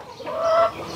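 A tiger breed chicken on a poultry farm gives a single short, close cluck, a quick rising then falling call that is over in under a second.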